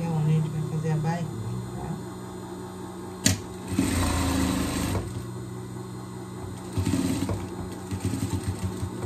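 A sewing machine runs in short bursts stitching a fabric pet outfit under the arm, with a mechanical whir and clatter alternating with pauses and handling noises, while someone talks quietly alongside.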